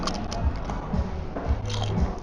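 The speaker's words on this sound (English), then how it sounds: "The corn is so crunchy." Close, crisp crunching bites of corn nachos, a few distinct chomps spaced about half a second apart with soft chewing between.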